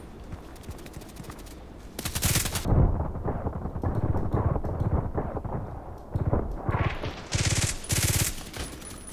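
Rapid bursts of glitched Glock pistol fire in a shooter video game, loud and dense with a stuttering, machine-gun-like rhythm through most of the stretch, with short gaps between volleys.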